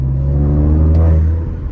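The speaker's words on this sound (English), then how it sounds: "the exhaust is hella loud" Loud car exhaust from a car fitted with a new full air intake and a decat, a deep steady rumble close to the microphone that holds strong for over a second, then eases slightly.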